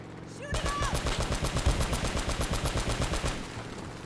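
Automatic gunfire in the video game Uncharted: Drake's Fortune: a rapid, sustained burst of rattling shots runs steadily for about three seconds, loud and close, after a brief quiet lead-in.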